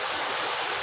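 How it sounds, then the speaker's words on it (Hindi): Steady, broadband rush of a waterfall at a hill site, loud and continuous with no voices over it. "सो ये देख सकते हो वाटरफॉल्स"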